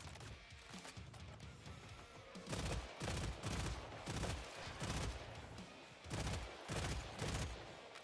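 Bursts of SMG gunfire from the Killing Floor 3 video game, loud and close, firing in repeated short volleys with brief gaps over a dense background of game noise.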